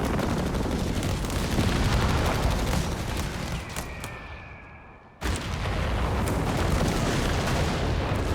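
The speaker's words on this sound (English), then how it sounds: "Airburst now zoning in the middle" Airburst artillery shells bursting in a Company of Heroes 3 match, a dense roar of battle noise with booms and gunfire, thinning briefly to a whistling pass before the barrage cuts back in at full loudness.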